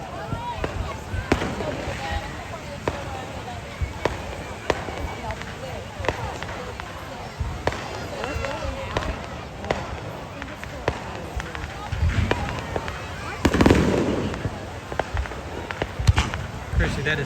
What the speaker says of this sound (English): we are watching fireworks on the beach